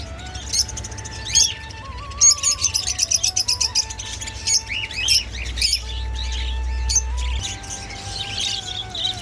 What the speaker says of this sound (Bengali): আসে শুধু পাখির কিচিরমিচির সুর